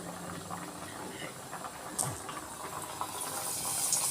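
Potato chips frying in hot oil give a steady, dense bubbling hiss that swells slightly toward the end, with a brief sharper burst partway through, heard alone without talk.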